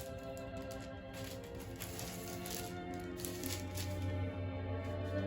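Red vinyl pressing of Beethoven spinning on a turntable, its surface crackle and ticks riding over steady tonal music at moderate level, with no talk.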